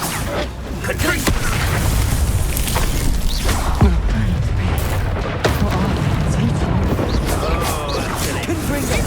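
Repeated magical blast explosions from the Confringo spell in Hogwarts Legacy, loud booming impacts mixed with combat noise and voices over several seconds.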